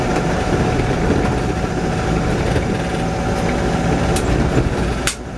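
A 1982 Land Rover Series III drives along an unpaved dirt road, its engine a steady, loud, rumbling drone heard from inside the cabin, with faint rattles and a couple of brief clicks near the end.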